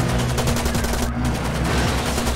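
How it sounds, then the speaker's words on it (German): Rapid bursts of automatic gunfire from the video game Far Cry 2 crackle in a dense, loud fusillade, shots repeating in quick rhythmic volleys with a brief dip midway. "also hier wird uns schon ganz ordentlich geschossen"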